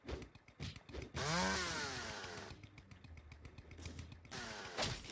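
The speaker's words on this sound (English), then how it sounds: "Chainsaw time." A chainsaw revs up loudly, its engine pitch climbing and then holding a rough buzzing drone before it cuts off and revs again, with no voices.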